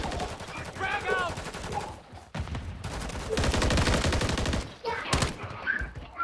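Rapid gunfire in Call of Duty MW3 multiplayer comes in bursts of automatic fire, with short gaps and a few louder single cracks. The shots are close and dense, and faint game sounds sit beneath them.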